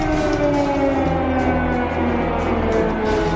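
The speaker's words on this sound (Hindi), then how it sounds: "क्रेमलिन, मॉस्को के चप्पे चप्पे में इमरजेंसी सायरन।" Emergency air raid sirens sound across Moscow, a steady wailing drone with layered sustained tones, loud and continuous with no speech.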